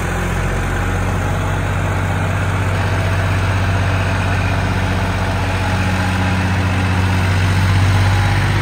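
A John Deere 5310 tractor with a power upgrade idles close by, its diesel engine giving a steady low, even rumble with a constant hum and no change in pace, with no voices.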